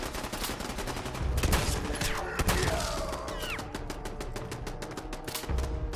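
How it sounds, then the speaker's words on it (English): Gunfire in Fallout 4 during a fight inside the Boston Public Library, dense rapid bursts of shots that run almost the whole time, loud and close, with no speech. "Stop shooting me through the wall."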